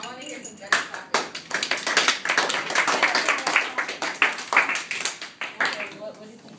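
A group clapping in a quick, uneven rhythm, many hands applauding together at close range.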